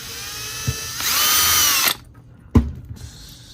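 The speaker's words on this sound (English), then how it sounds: "drill it right about there." A power drill whirs loudly for about a second, then cuts off, with a couple of sharp knocks before and after.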